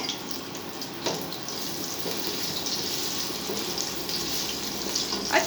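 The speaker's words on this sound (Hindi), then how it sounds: "अब मैं ये आलू ये इस ऑयल में डालती हूँ" Potatoes fry in hot oil with a continuous hissing sizzle, fairly even and moderately quiet throughout, with no one speaking.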